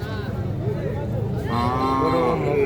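A cow at a cattle market moos loudly and close by, a long drawn-out low call that rises into a higher, strained bellow toward the end.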